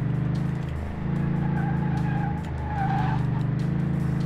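Tires of a Ford F150 on thick wheels skid and squeal through a chicane in the racing video game Car Mechanic Simulator 2018, a loud continuous engine drone with screeching tire tones rising during a heavy turn.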